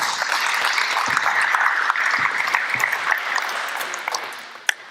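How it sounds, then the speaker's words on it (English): A group claps for a basketball player at an NBL coaching session, steady, fairly close applause that tapers off near the end, with no talk over it. "Give him a clap."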